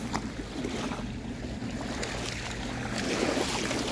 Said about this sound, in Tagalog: Hay, nako, lumalakas ang alon